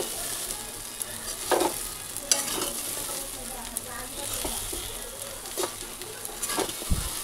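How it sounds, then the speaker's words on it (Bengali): Spices fry in a pan, sizzling steadily at a low level, with scattered stirring clicks and scrapes and a few louder knocks. "চলো আমার মশলা ভাজা হয়ে গেছে"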